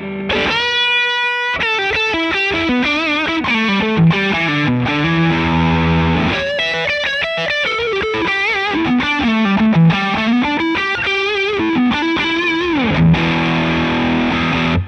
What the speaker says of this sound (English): Let's switch onto the next position and try some overdrive sounds.